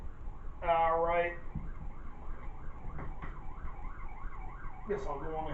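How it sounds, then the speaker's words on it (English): A police siren wailing outside, its rising and falling tone sweeping repeatedly at moderate distance, with brief bursts of voices near the start and end. "I hear the police siren outside"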